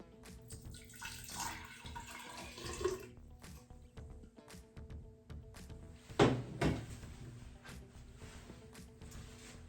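Water dumps out of a filled class 200 plastic pipe into a container, with a splashing pour near the middle and scattered knocks and drips around it, close by.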